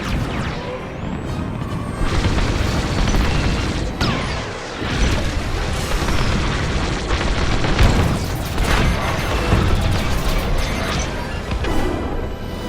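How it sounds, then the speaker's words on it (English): Repeated heavy booms and crashing blasts as bombers are destroyed in the Star Wars Squadrons space combat game, loud and dense, layered over continuous engine roar and effects throughout. "All bombers destroyed."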